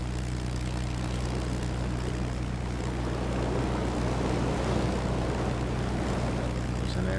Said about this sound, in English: There's an airplane over top of us.